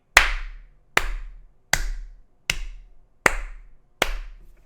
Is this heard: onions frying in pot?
no